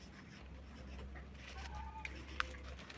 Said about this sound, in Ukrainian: Беру стаканчик, підписую його.